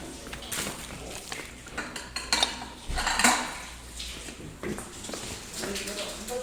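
Ceramic plates clatter and clink as they are lifted out of a kitchen cabinet in a home, with scattered knocks and scrapes close by while people talk.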